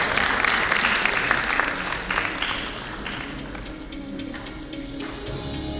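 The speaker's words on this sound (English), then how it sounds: "We can at least express our gratitude by applauding from them." An audience applauds conference speakers at a national convention technical session, with sustained, dense clapping that is loud at first and then eases slightly while continuing to the end.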